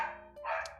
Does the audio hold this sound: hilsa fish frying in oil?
no